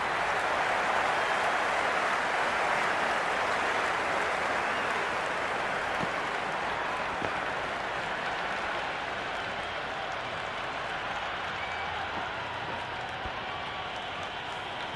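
A Big Bash T20 cricket crowd at a Sydney Sixers versus Adelaide Strikers match applauds and roars in a dense, sustained wash of clapping and cheering, with faint voices mixed in throughout.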